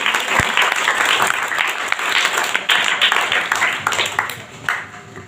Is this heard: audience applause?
yes